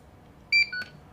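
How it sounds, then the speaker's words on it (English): Transmitter for a Losi Promoto-MX RC motorcycle gives a quick pair of short electronic beeps and then a lower third tone as it searches for the bike, close and clear against a quiet background. "It's beeping at me."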